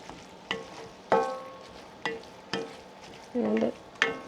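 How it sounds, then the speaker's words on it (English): Onions or shallots for Thai laab frying in a pan, with a soft steady sizzle broken by repeated sharp clinks and scrapes of a utensil stirring against the pan. "let's get the onions in there. Or shallots, if that's what you're using."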